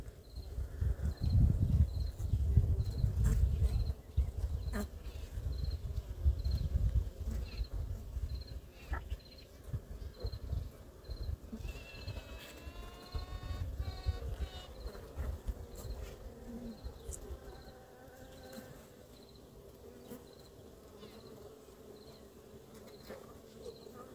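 Queen honeybee piping inside a hive during queen introduction on the third day after the cage was opened: a series of high, pulsing tooting notes rising over a steady dense buzz of worker bees, with continuous hive hum throughout.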